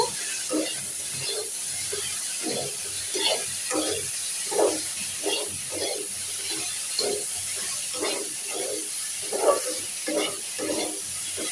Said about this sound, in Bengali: আর এই যে ভেন্ডি ভেজে নিচ্ছি